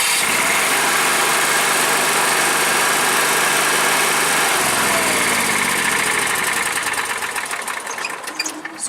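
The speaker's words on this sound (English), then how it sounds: "you want to hold the start button until the generator comes all the way on" A portable generator cranks with a steady mechanical whir, then its engine catches and settles into a loud, even running drone that continues to the end, close to the microphone.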